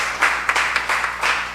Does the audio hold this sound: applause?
yes